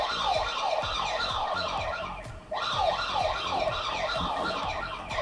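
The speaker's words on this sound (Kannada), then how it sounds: "ಈ ಥರ ನಿಮಗೆ ಡಿಟೆಕ್ಷನ್ ಆದ ತಕ್ಷಣ ನಿಮಗೆ ಸೈರನ್ ಜೊತೆಗೆ ನಿಮಗೆ ಈ ರೀತಿ ಅಲಾರಾಮ್" A solar CCTV camera's siren alarm triggered by motion detection, a loud continuous wailing electronic siren that sweeps up and down, with a brief dip midway.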